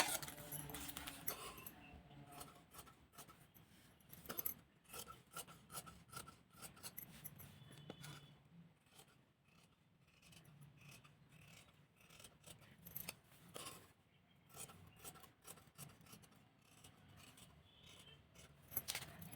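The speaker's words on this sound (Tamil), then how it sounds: "இப்போ பேக் கட் பண்ண போகிறோம்" Scissors snip and rasp through blouse fabric while the back piece is cut, with a steady stream of close, quiet crunching cuts and rustling cloth.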